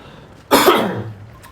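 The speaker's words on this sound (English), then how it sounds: "I'm coughing a little bit this morning." A single sharp, loud cough close to the mic, with a brief rough tail, preceded and followed by quiet.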